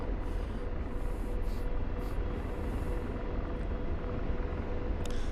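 A helicopter flying in a military flight simulator game, its rotor and engine a steady close whir and rumble throughout, with no talk over it.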